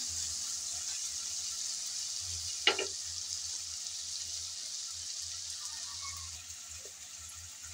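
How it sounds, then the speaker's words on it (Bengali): Lentils (dal) fry in a little oil in a pan, a faint, steady sizzle with one brief louder clatter of stirring midway, quiet and without voices. "কিছুক্ষণ নেড়ে চেড়ে ডাল ভেজে নিলাম।"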